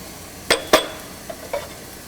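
Spice powders being stirred in a pan for duck roast: two sharp scrapes and clinks of the spoon against the pan, followed by a couple of softer strokes over a faint background hiss.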